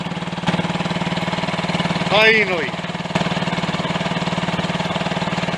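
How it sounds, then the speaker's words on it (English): A Honda CD175 motorcycle engine runs unevenly under its own power during a project restoration, a close, loud, rapid putter with a brief voice in the middle. "that proves that the engine can turn and run under its own steam"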